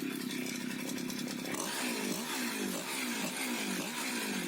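A petrol brush cutter with a freshly cleaned and adjusted carburetor runs close by, a buzzing two-stroke whine that rises and dips in repeated revs.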